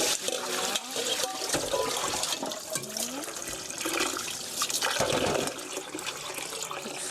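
Cooked jajangmyeon noodles are rinsed and rubbed by hand under running water, giving a steady splashing, sloshing wash with irregular squelches close up.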